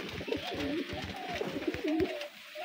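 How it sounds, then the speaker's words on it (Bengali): A pet pigeon in its loft coos close by in a series of soft, throaty, rolling calls that repeat for a couple of seconds with no talking. "তো এই যে আমার কবুতর।"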